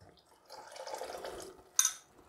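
Homemade stock is poured into a pan of wild mushroom risotto, giving a soft liquid splash and sizzle for about a second, followed by a brief sharp clink, close and fairly quiet.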